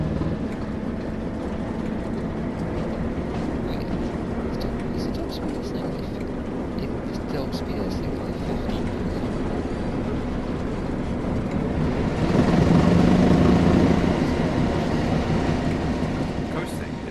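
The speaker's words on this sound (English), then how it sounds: "With the train now moving, it's possible to apply more power and focus on achieving a desired speed." A steady low rumble of a train engine moving along in Train Sim World on the Tees Valley Line, growing louder and heavier near the end, with a voice speaking over it.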